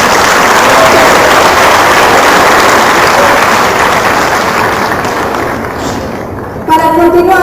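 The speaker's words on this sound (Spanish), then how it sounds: "le solicitamos un fuerte aplauso" Loud, sustained crowd applause fills a municipal anniversary ceremony in Nezahualcóyotl, thinning slightly toward the end before a voice starts speaking over the last moments.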